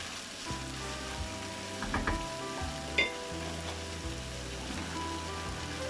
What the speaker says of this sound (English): now I'm gonna add the minced meat